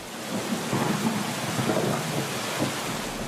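Thunderstorm with heavy rain in Bihar, India, a continuous dense roar of rainfall with low rumbles of thunder rolling underneath, steady and fairly loud, no voices.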